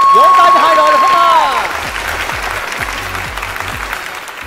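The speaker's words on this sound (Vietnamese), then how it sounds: "khán giả ơi, vỗ tay cho hai đội được không à?" Studio audience applauding for two competing teams at a Vietnamese comedy game show, loud and steady clapping that starts under a host's voice and continues alone at a slightly lower level.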